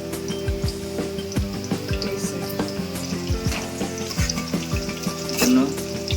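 Onion and garlic fry in a pan of hot oil, a close, steady sizzle with periodic stirring scrapes and soft knocks throughout, without speech.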